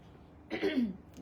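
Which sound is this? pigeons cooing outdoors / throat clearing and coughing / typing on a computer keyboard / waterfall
throat clearing and coughing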